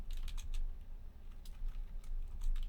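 Quick, light keystrokes on a computer keyboard in uneven bursts, close and fairly quiet over a low room hum.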